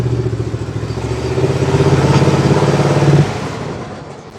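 The engine of a John Deere Z525 zero-turn mower runs loud and close with a steady, rough mechanical drone, then slightly drops in level near the end.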